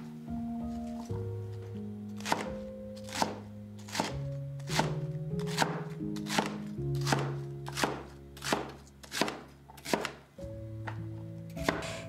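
Root vegetables such as kabocha and sweet potatoes are chopped on a cutting board with a steady series of sharp knife thunks, close and fairly quiet, while soft background music plays underneath.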